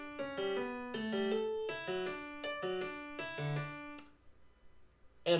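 Guitar musical passage built on triplet groupings with the middle note moved forward to divide the beat evenly, played as clear plucked notes in several short rhythmic bursts, followed by near silence and a final short attack.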